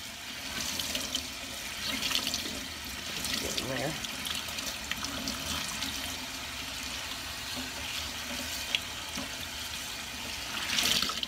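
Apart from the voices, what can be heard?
water running while rinsing a tie-dyed shirt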